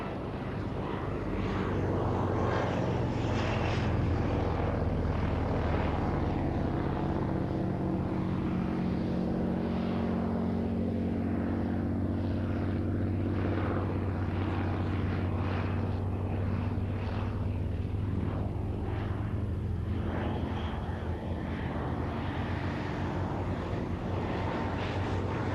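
A 1918 Bristol Fighter propeller biplane flies past, its engine drone swelling loud and steady with a throaty, pulsing roar that lingers throughout.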